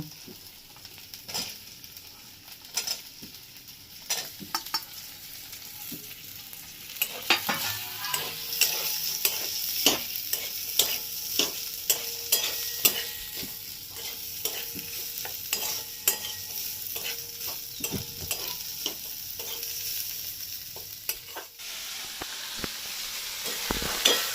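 Vegetables stir-fried in thickened chili paste for chili soya chunks, a continuous sizzle with scattered sharp clicks and scrapes of stirring, growing louder and busier partway through as the pan gets hot.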